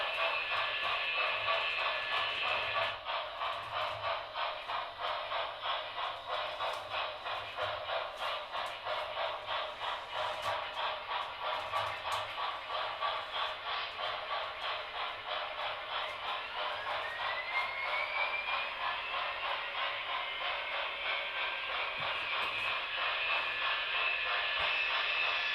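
A Chesapeake and Ohio model train runs steadily on a layout, its continuous rolling rumble and clatter near and even throughout, with a faint rising tone partway through.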